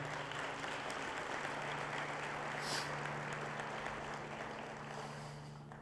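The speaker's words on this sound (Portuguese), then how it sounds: "Você pode aplaudir o Senhor Jesus?" Church congregation applauding during a worship service, a steady dense wash of clapping that holds throughout and fades slightly toward the end, with a low sustained tone underneath.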